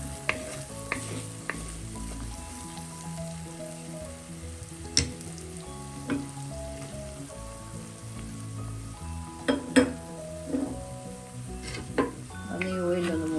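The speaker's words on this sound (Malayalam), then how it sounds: "ഈ സമയം നമുക്ക് സൈഡിലോട്ടാക്കി മസാലപ്പൊടി ചേർക്കാം." Onions and masala powder frying in oil for a spicy sole fish curry, a continuous close sizzle with intermittent clinks and scrapes of a spoon against the pan; no one speaks.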